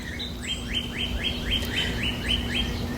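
A bird repeats a bright, sweeping chirp about nine times in steady rhythm, clear over a low background hum.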